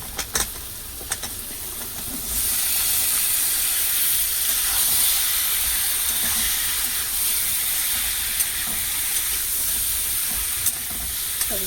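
Chopped vegetables tipped into a hot pan for a Bengali prawn dish set off a loud, steady sizzle that jumps up after a quieter start and hisses on without a break.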